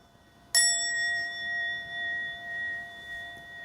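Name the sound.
bell ringing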